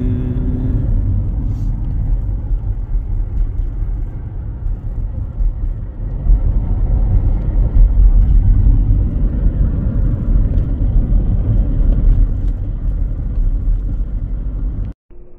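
A car drives along a London highway, with a steady, loud low rumble of road and engine noise throughout and no talk.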